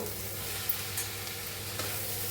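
Moth bean sprouts being stirred with salt in a frying pan, giving a steady close sizzle with a few light scrapes from the spoon and no talking.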